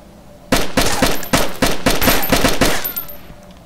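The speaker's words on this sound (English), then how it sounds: "That was just warning shots." Warning gunshots in DayZ, a rapid string of loud, close automatic shots in an even rhythm lasting about two and a half seconds, with a brief pause partway and a ringing tail as the firing stops.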